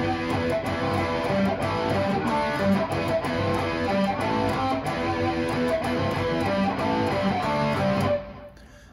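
Electric guitar playing the power-chord riff from a metal song: a dense, steady, rhythmic stream of chugging chords that carries on loudly without talk, then cuts off abruptly near the end.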